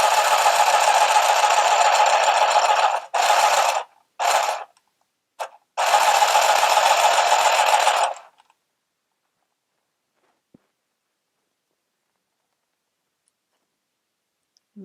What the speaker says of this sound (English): Now you can also use the handheld sewing machine holding it vertically to your body